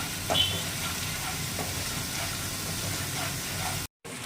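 Onion, garlic and ginger paste sautéing in hot oil gives a moderate, continuous sizzle with occasional stirring scrapes, close by and without talk.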